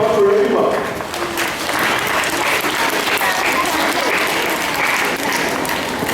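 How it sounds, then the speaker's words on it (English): Students applaud together at a school singing event, a dense, sustained roar of clapping that starts loudly and carries on evenly, with crowd voices mixed in. "give me a applause for everyone"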